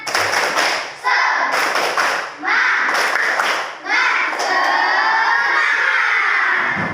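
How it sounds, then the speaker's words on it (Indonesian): Rhythmic 'tepuk semangat' clapping in a school classroom: bursts of hand claps in a set pattern, mixed with children's voices chanting along. "Kita tepuk semangat dulu. Yuk, tepuk semangat."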